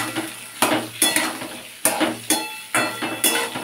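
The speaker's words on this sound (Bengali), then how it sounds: "এবার এটাকে ভালো করে ভেজে নেব।" Chopped carrots and beans frying in a pan, with a spatula stirring in repeated scraping strokes about every half second over a steady sizzle, close and clear with no talking.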